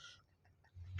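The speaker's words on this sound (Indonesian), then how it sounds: "Saya batuk itu loh" A single short cough bursts out close by at the end, after a near-silent pause.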